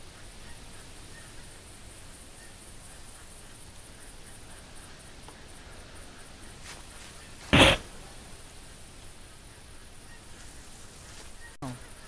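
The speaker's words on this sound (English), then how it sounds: "You hear incoming big geese" A single brief goose honk from the video game theHunter stands out over a steady low hiss, with another faint call near the end.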